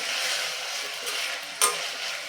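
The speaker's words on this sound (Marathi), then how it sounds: "यामध्ये घालतीये एक बारीक चिरलेला टोमॅटो टोमॅटो सगळ्यात शेवटी घालायचा कारण शिजताना टोमॅटो खूप वेळ घेत नाही मिक्स करून घेऊयात हे सुद्धा" Finely chopped tomato is stirred into mixed vegetables frying in a pan for masala khichdi: a steady soft sizzle with light stirring scrapes and one sharper clack of the spoon against the pan.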